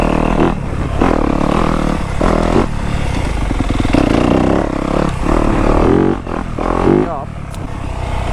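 A dirt bike engine revs on a muddy trail, a loud close buzzing growl that rises and falls through throttle blips, with a voice talking over it.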